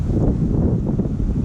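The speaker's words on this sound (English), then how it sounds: "Nice and windy" Wind buffets the microphone at a Florida river boat launch, a close, steady low rumble with gusty fluctuations and nothing else standing out.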